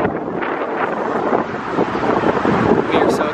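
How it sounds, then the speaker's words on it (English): Steady, rushing wind buffets the microphone outside a Chili's restaurant, a broad roar that rises slightly toward the end, with faint voices mixed in. "It's very windy right now."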